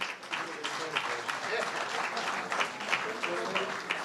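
Audience at a national financial literacy speech competition clapping steadily, a sustained, even round of applause from a moderately sized crowd heard from within the room.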